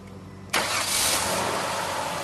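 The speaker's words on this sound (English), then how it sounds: "So then we want to go ahead and start the car up." A car engine cranks and catches after about half a second, then settles straight into a loud, steady idle that runs to the end, with no talking.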